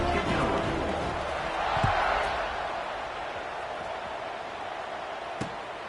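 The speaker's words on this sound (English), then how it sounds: "this crowd is buzzing after that last score" A football stadium crowd keeps up a steady, moderately loud buzz after a score, a broad murmur with a couple of sharp thuds cutting through it.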